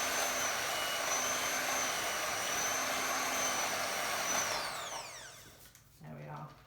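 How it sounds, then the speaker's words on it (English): Electric hand mixer whizzing scone mixture, a loud steady whine for about four and a half seconds before winding down, followed by a brief clatter. "I'm just going to give it a final quick whiz with my trusty mixer"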